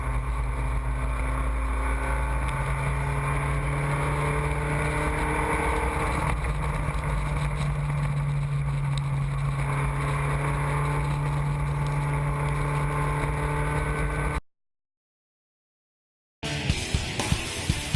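Spec Racer Ford race cars run a Group 5 race at the SCCA June Sprints, a steady droning engine roar that holds for a long stretch before cutting to silence, then returning briefly in a different scene.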